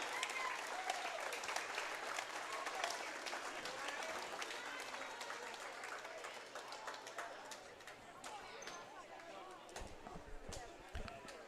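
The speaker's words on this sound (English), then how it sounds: "let's give a big round of applause, a great hand" Applause in a high school gym during a varsity volleyball game on Grandparents' Night: sustained clapping and crowd noise, fairly distant and soft, with voices mixed in and a few sharper thumps toward the end.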